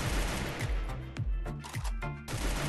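Scar Titan assault rifle from Free Fire fires in fast, evenly spaced shots, a sharp repeating rhythm of punchy bursts heard close and clear with no talk.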